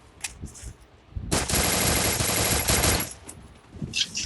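Rapid automatic gunfire bursts out loudly in a shooting video game, a sustained volley of about two seconds framed by a few scattered single shots.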